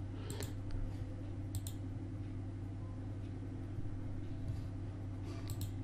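Computer mouse clicks while extracting a zip file, a few sharp paired clicks spaced across the stretch over a steady low electrical hum, with no talk.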